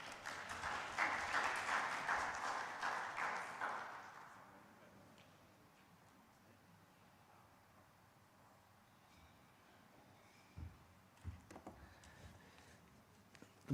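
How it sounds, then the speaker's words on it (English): Audience applause welcoming a speaker at a live-streamed event, a brief burst of clapping in the first four seconds that fades into quiet room tone with a few faint knocks. "Please welcome Adeno with a round of applause."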